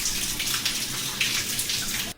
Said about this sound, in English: now we're gonna go have a shower in the warm showers